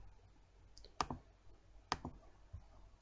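Computer mouse clicks while objects are dragged in Proteus circuit software: a few sharp, close clicks spaced about a second apart against a quiet background.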